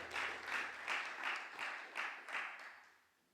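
A church congregation applauds in steady bursts of clapping at moderate distance, fading out at the end.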